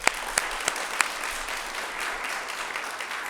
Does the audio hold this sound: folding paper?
no